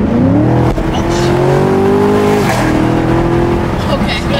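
A new car accelerates hard with the throttle floored, its engine note climbing steadily and loud from inside the cabin, dropping briefly at a gear change before rising again, with people talking over it.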